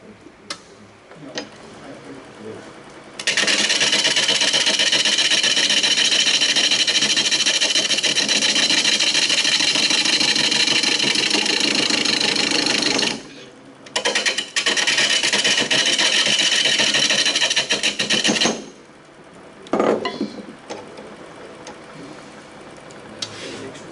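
A wood lathe turns a live edge wooden bowl while a gouge cuts off the corners, giving a loud, steady, rough scraping that runs for several seconds, breaks briefly, resumes, then stops.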